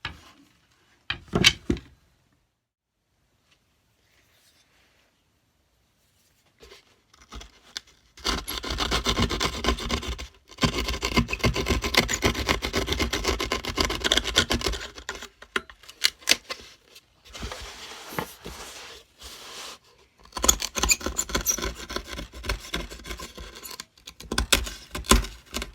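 Wood being cut by hand with a small blade clamped in a vice grip while the outline of a cigar box guitar part is traced: long stretches of close, rough rasping and rubbing strokes, broken by pauses and a quiet gap near the start.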